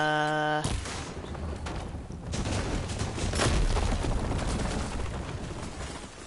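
Sustained gunfire from the Horizon Forbidden West video game, a loud dense barrage of shots and booms rolling on without letup through the whole stretch, with game voices faintly mixed underneath.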